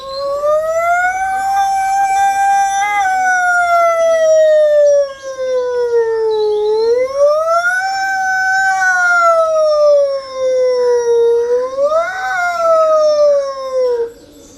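A voice mimics an ambulance siren in a street traffic jam: a loud, close, sustained wail that rises and falls in several slow sweeps, with no other sounds around it.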